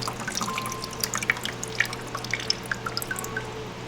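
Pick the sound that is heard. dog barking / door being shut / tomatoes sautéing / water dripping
water dripping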